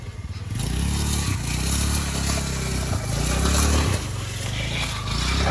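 A motorcycle engine revs close by, rising in pitch through several gear changes in a steady rhythm, loud and continuous with a faint clatter and no speech over it.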